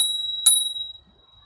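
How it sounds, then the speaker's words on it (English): A single bright ding from the bell on a Bezior X1500 folding 26-inch fat-wheel electric bike, ringing out clearly with a sustained tone that fades within a second. "There is no electric buzzer, but they have included a bell."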